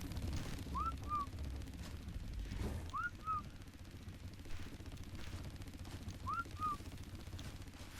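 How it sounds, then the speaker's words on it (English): A player's whistle in the video game Ark, used to call a wyvern, sounds as three faint two-note rising-falling calls spread apart over steady low game ambience and distant rumbling. "Why am I in a place that it's not hearing my whistle?"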